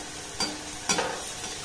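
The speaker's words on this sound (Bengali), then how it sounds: "গ্যাসের ফ্লেমটাকে একদম লো রেখে এই পিঠেটাকে ভেজে নিতে হবে।" Palm-fruit pitha frying in oil over a low gas flame, giving a steady soft sizzle with two brief, louder spattering bursts close by. No one speaks.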